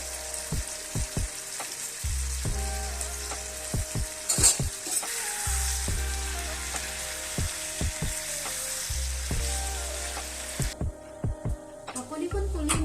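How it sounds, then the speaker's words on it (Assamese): Chicken fries with sesame in a pan, giving a steady close sizzle broken by intermittent stirring scrapes and utensil knocks, with bursts of low humming in the background. "কম হিটত লাহে লাহে আপোনালোকে ভাজি থাকিব পাৰিব।"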